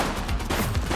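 A suspect fires at police in the video game The Precinct, a rapid, loud burst of gunfire packed into about a second against a noisy, chaotic background.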